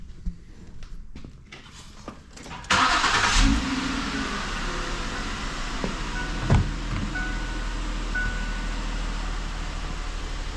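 A 2008 Ford Taurus with high steering effort cranks and catches with a sudden loud start, then settles into a steady, close idle with a faint whine and a single thump partway through.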